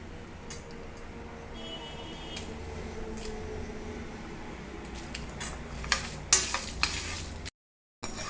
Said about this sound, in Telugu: ధనియాలు కూడా వేస్తున్నానండి.